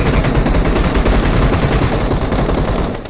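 Dense gunfire from the video game BGMI rattles continuously in rapid, overlapping bursts, loud and close, with no voices present.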